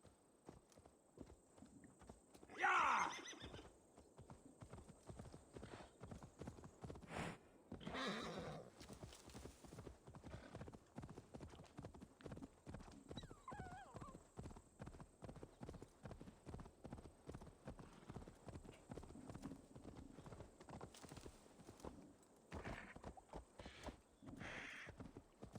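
A horse walks at a steady pace, its hooves clip-clopping in a regular rhythm for the whole stretch, with a couple of louder whinnies or snorts early on and faint background noise.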